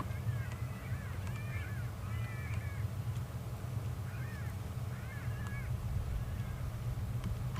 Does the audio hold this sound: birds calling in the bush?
yes